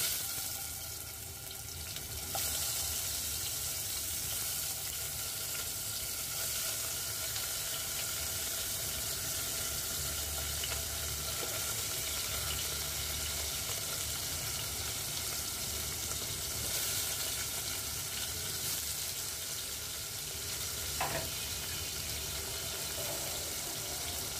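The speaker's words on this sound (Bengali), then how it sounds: "এখন এটা আমি ভেজে নিব, হালকা ভেজে নিব।" Bele fish marinated in turmeric, chili and salt is lightly fried in a pan, giving a continuous soft hissing sizzle that holds steady throughout, with an occasional faint clink and no voices.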